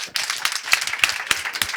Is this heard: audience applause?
yes